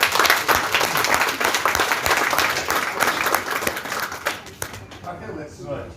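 Sustained applause from an audience at a staff excellence awards ceremony, dense steady clapping that fades toward the end.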